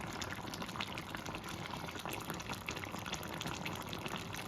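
Ghee being poured into a pan of cooking pointed gourd and prawn curry, a steady soft liquid hiss and bubbling close by with faint crackle throughout, no talking.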